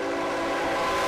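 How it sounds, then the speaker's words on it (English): An Amtrak Surfliner passenger train horn sounds in Encinitas, a loud sustained blast held steady throughout the brief moment. "Amtrak Surfliner train barreling through here and the engineer laying on his horn"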